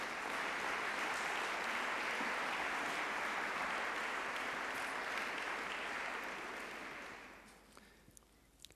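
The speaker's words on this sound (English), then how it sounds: "maybe we should give another hand of applause" An audience at a conference opening night claps in sustained applause that holds steady and then tapers off into near quiet near the end.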